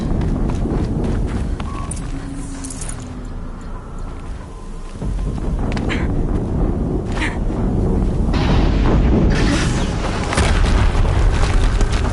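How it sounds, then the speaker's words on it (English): Explosions boom in a PS4 video game, loud rumbling blasts that roll on and on with heavy low-end crackle and scattered sharp bursts, dense and continuous throughout without speech. "Another explosion."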